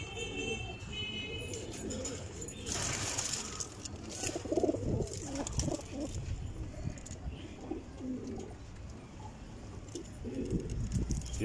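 Several soft cooing calls come from a female Kalsari pigeon, low and fairly close, with a few chirps and some rustling among the birds.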